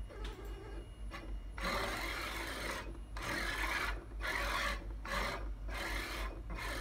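An IAI ACON-C electric actuator runs its ball screw and linear guide with a continuous raspy, rubbing mechanical whir, broken into surges by short pauses as the slide stops and restarts; the motor itself stays silent.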